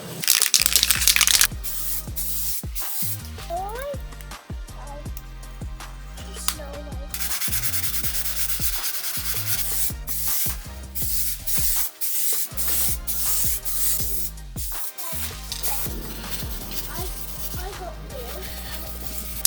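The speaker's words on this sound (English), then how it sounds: "I've scuffed it up with scotch." A scotch pad scuffs the rear panel of a Himalayan 450 rally bike in a makeshift spray booth, making dense, rough, repeated rubbing and scraping with short pauses between strokes.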